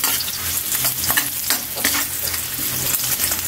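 Ginger slices frying until golden brown in hot oil for chicken tinola, a steady close sizzle and crackle with occasional stirring scrapes, no voices.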